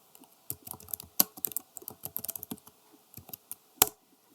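Fingers type on a computer keyboard while renaming a sheet in MS Excel, a quick irregular run of light clicks with a few sharper key strikes and short pauses.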